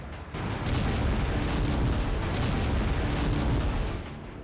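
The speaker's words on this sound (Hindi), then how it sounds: "चंद सेकंड में हो जाता है दिल दहलाने वाला धमाका" A sustained, roaring explosion with a deep rumbling boom that holds loud for several seconds before cutting off.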